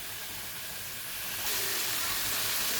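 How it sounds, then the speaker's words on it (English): Minced meat browning in a pan over high heat, a steady broad sizzling hiss that swells louder about halfway through and holds, no talking. "And I'm going to brown that mince."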